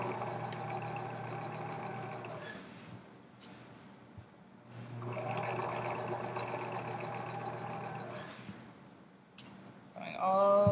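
A sewing machine runs in steady humming stretches while backstitching a seam to the edge of the fabric, pausing briefly between runs and ending with a short louder rattle.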